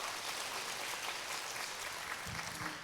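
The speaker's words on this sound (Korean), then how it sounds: "네, 큰 박수 부탁드릴게요." An audience at the Gwangju Women's Conference gives sustained applause, a dense, even wash of clapping from many hands heard from within the hall, with no speech over it.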